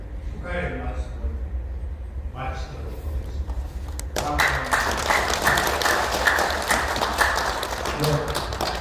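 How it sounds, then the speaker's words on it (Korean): An audience at a ceremony for the 24th March 1st Spirit pan-national rally breaks into sustained applause that swells after a stretch of speech, with dense clapping continuing to the end. "여러분 다시 한번 큰 박수 부탁드리겠습니다"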